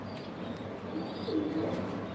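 Racing pigeons in a loft give a faint, soft coo near the middle over a low, steady background hum.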